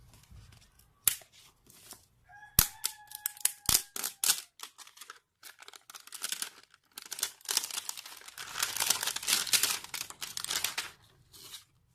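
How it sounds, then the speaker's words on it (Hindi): Cardboard and plastic packaging of a Samsung Galaxy J5 Pro 2018 phone box crinkles, tears and snaps in irregular bursts, with scattered sharp clicks and a denser stretch of rustling near the end. "मैं इसी डब्बे को खोल लेता हूं।"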